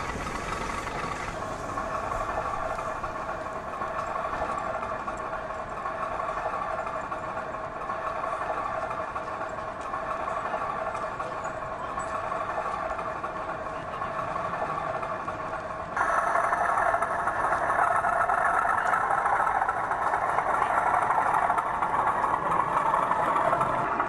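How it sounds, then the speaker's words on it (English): A Class 37 diesel locomotive idles at a platform with a steady low throb and hum, heard at a moderate distance, growing a little louder and rougher toward the end. "Over on Platform 1 is a Class 37, about to take us on a full tour of the railway."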